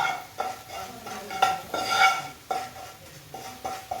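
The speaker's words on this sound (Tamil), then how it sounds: "சேர்த்து அப்படியே நல்லா மிக்ஸ் பண்ணிடலாம்" A spoon stirring chilli powder into raw mango pickle in a pan, a series of short rhythmic scrapes and light clinks against a faint sizzle, no talking.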